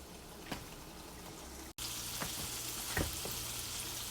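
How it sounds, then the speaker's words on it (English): Steady sizzling of beef liver frying in a hot pan, with a few soft clinks and stirring sounds over the constant hiss. "let them fry up"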